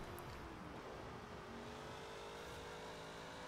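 A rear-engined Hot Wheels car in Forza Horizon 4 drones steadily at close range, a continuous engine note with a slowly rising pitch and no voices.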